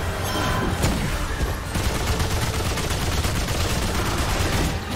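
Dense, continuous gunfire from Remnant 2 fills the whole stretch, with overlapping rapid shots and booms roaring loud and close without pause.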